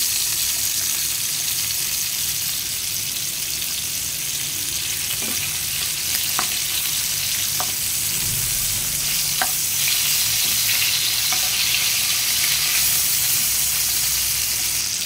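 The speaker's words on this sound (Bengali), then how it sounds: "তো মাছগুলো এক পাশ ভাজা হয়ে গেছে, আমি উল্টে দিব এখন।" Hilsa fish frying in a pan, a steady dense sizzle of hot oil running throughout, with occasional faint clicks and taps from handling the pan.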